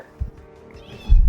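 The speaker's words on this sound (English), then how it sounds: "Oh, I guess you can hear my cat in the background meowing." A house cat meows in the background of a radio-show recording, two short, fairly loud calls about a second apart.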